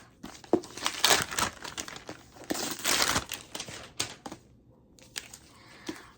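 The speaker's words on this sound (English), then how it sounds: "So let's unwrap the book." A wrapped book being unwrapped, its paper wrapping crinkling and tearing in close, busy bursts that pause briefly near the end, with no talking.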